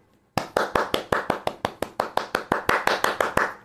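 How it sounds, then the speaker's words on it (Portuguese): One person's hands clap in a steady, even rhythm, about seventeen crisp claps over three seconds, close and clear with no talking. "Palmas para você"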